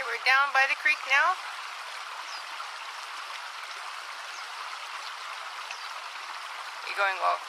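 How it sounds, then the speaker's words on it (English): A creek in Spur Cross Ranch Conservation Area flows steadily with a soft, continuous rushing murmur heard on a hike, while a person talks briefly at the start and again near the end. "Down by the creek now."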